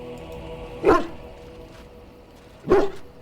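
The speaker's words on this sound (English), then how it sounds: "It's a warhound" A warhound in Dragon Age: Origins gives two sharp barks about two seconds apart, close and clear over a quiet game ambience.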